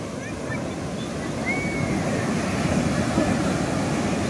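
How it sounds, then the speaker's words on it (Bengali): Sea waves breaking on a Goa beach during the monsoon, a continuous loud roaring wash of surf that builds slightly, with a faint distant whistle-like tone briefly above it. "সমুদ্রের কি আওয়াজ!"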